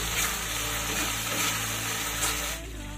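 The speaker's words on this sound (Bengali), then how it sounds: "এভাবেই ধীরে ধীরে কষিয়ে নিতে হবে যতক্ষণ না মশলার গা থেকে তেল ছেড়ে আসে।" Spice paste fries slowly in oil for a paneer curry made without onion or garlic, giving a steady, soft sizzle and faint stirring that fades near the end.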